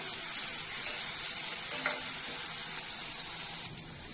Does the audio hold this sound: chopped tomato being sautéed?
yes